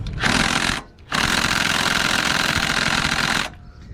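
A small 12-volt impact wrench hammering on a 15 mm rear shock bolt, two loud rattling bursts of about half a second and two and a half seconds with a short pause between.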